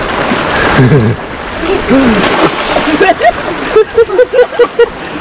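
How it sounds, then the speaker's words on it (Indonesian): Floodwater flowing northward after heavy rain makes a steady, close rushing and splashing wash, running beneath someone talking throughout. "Ini aliran air ke utara berarti"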